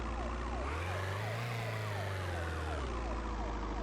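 A wailing emergency siren sounds in a video game, loud and near, its pitch sweeping up and down over a low rumbling engine drone.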